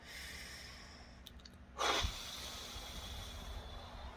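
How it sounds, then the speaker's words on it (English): A single deep breath, a short sharp inhale followed by a soft airy exhale, close and fairly quiet in a hushed setting, with no talk. "So take a deep breath."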